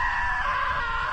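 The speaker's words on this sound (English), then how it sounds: "Now that was a great scream." A sustained scream from a character in What Remains of Edith Finch, loud and steady across the whole moment with no other voices.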